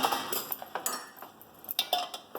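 A metal spoon scrapes and clinks against a pan while stirring mixed vegetable bhaji seasoned with turmeric, chili and garam masala, in irregular close taps and scrapes with no talking.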